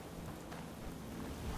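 Steady rain in Fallout 4, a dense, constant hiss of falling drops with a low rumbling bed beneath, faint and unbroken throughout.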